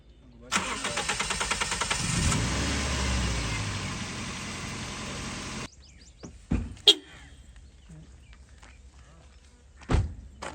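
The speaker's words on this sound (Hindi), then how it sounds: "जाके गाड़ी स्टार्ट करें।" A car engine cranks and catches, then runs with a steady mid-pitched drone for several seconds before cutting off, followed by a few sharp thunks like doors closing.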